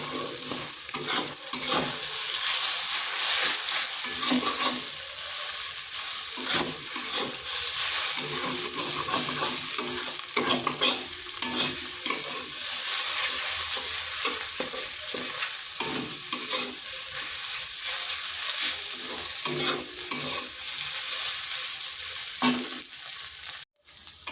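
Egg and okra frying in a pan while being stirred, a dense, continuous sizzle broken by frequent scraping strokes of a spatula, close up and without talk.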